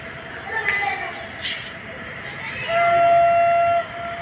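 A train at Bhagat Ki Kothi railway station in Jodhpur, heard from near an outer overbridge: a steady tonal whistle or horn sounds for about a second over rumbling station noise, with faint background voices.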